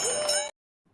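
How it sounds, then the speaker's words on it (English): A bright bell rings once as a sound effect, loud and shimmering, then cuts off abruptly after half a second, leaving near silence. "Ring the bell!"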